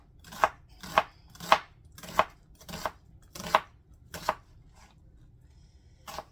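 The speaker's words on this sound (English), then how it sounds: "the next thing we need to prep is onions. We're going to do the same thing with those. We're going to get them all diced up." A knife chops diced onions on a cutting board in about eight sharp, evenly spaced strokes, close up and with no talking.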